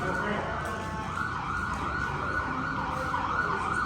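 An ambulance siren wails steadily and loudly, close by, over the rumble of road traffic near a fire station.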